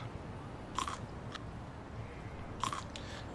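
Kimchi eaten in the video game Like a Dragon gives two short, crisp crunching bites a couple of seconds apart, faint over low background hiss, with no voices.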